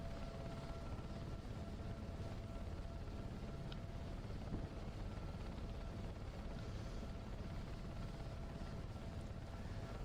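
A helicopter passes over London, a steady broadband rotor and engine roar holding constant and fairly close for the whole stretch, with no voices.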